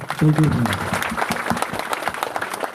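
A crowd claps at the Holy Cross victory festival at Siluvagiri hill in Kaccheri, a dense continuous applause that carries on while a voice speaks over it near the beginning.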